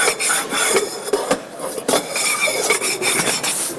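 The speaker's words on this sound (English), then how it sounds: "So I'm actually wearing away the end of the fork." A steel fork rasps and scrapes hard across a BLANCO SILGRANIT kitchen sink surface, with repeated close, gritty strokes in an uneven rhythm and no voices.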